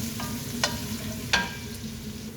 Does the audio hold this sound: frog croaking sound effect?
no